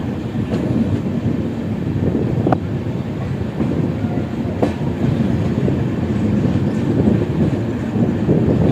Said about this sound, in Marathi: पुढं बघू शकता आपण एक ट्रेन चालली आहे.